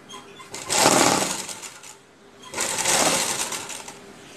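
Sewing machine stitching gum piping onto cloth in two separate bursts of fast, whirring stitching, each lasting about a second and a half, with a short quiet pause between them, close by.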